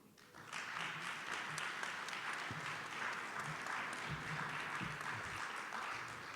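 An audience at a New Jersey workshop on economic parity claps after a speaker finishes, steady sustained applause from a roomful of people, fairly distant and even throughout.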